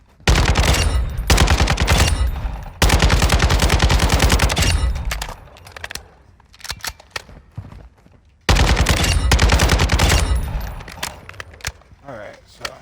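An AK-style rifle loaded with armor-piercing rounds fires long, loud full-auto bursts in Call of Duty: Modern Warfare II, followed by scattered shorter shots and pauses and then another sustained burst, close and dominant.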